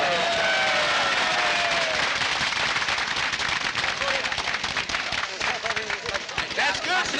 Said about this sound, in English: Could you please show your appreciation by clapping your hands if the barrels are successfully opened?